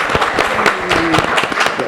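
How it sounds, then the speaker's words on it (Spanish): A seated audience at a Spanish book presentation on Atapuerca gives Aurora a round of applause, dense overlapping claps that are close and moderately loud throughout. "Un aplauso, por favor"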